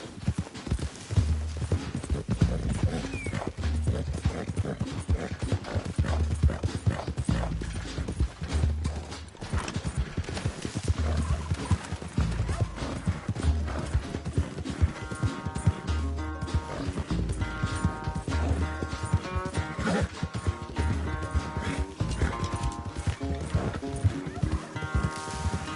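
Horse hooves clip-clopping at a gallop in Red Dead Redemption 2, steady close rhythmic hoofbeats over continuous game background, with a neigh and swelling music toward the end.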